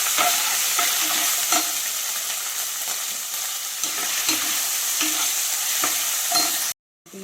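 Paneer pieces sizzle steadily in a hot pan with ground masala while a spoon scrapes and stirs at irregular intervals, ending in a brief cut to silence.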